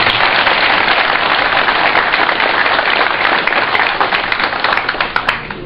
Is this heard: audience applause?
yes